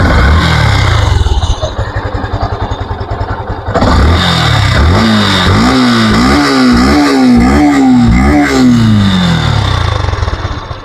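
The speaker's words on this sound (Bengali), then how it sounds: "তো বাইকটা এখন স্টার্ট করে সাউন্ড কন্ডিশন দেখাবো" A black Yamaha FZS V2 motorcycle engine starts and revs repeatedly in rising and falling bursts, loud and close, running alone without talk.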